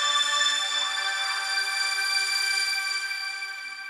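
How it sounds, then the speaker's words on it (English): A sustained synthesized tone rings steadily, bright and harmonic-rich like a soft bell or pad, generated live through MIDI from a brain-sensor headgear signal and fading slightly toward the end with no voices. "And it's being translated into MIDI and then assigned to an instrument I created."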